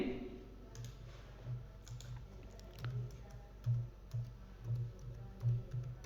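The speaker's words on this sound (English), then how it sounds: "Now we are supposed to type this name" Keys on a computer keyboard are typed in short bursts of soft clicks and taps, close up, with brief pauses between groups of keystrokes over a quiet background.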